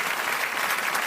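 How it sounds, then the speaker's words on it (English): Theatre audience at a variety performance breaking into steady, dense applause that carries on evenly without pause for about a second. "Can I have some cheap applause, please?"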